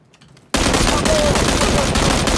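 Sustained automatic gunfire erupts suddenly and loudly in a PUBG Battlegrounds match, rapid shots rattling continuously after a brief quiet lead-in.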